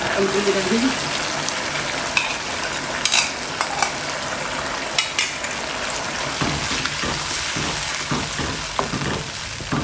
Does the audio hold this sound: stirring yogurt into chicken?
yes